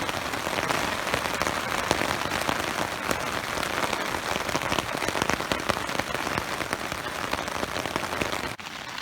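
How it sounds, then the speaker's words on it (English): Heavy rain pours onto a poncho shelter during a storm, a dense, loud, continuous patter of drops drumming close overhead without a break. "So that's really raining out."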